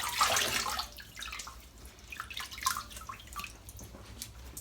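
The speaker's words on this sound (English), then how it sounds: "Just wet the face." Water splashing and dripping from a tap or sink as a face is wetted before a wet shave with a vintage Gillette Rocket 500 HD razor, giving close, irregular wet splashes and drips with no talking.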